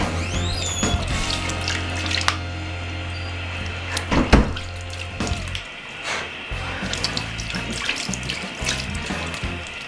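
Bathroom tap runs steadily into a sink as a face mask is rinsed off, a close continuous splashing stream broken by a few thunks and shifts in the flow.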